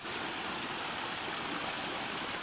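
A mountain stream pours steadily at a water source along a Great Smoky Mountains backpacking trail, a close, dense and unbroken rush of water with no voices.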